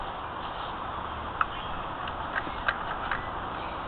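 A Hitchhiker spinning wheel with a direct-drive foot pedal runs steadily, giving a soft continuous mechanical whir with a few faint clicks and taps, close by and without talk.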